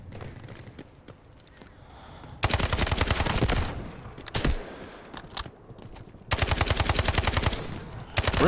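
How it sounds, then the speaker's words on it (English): Gunfire in the video game Delta Force comes as two sustained bursts of rapid automatic fire, each about a second long. Single shots and softer movement sounds fall between them. "That was terrible shooting."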